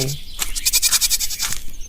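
A cartoon wolf, voiced by a person, imitates a goat's bleat, a loud wavering cry held through nearly two seconds with a few pulsing breaks.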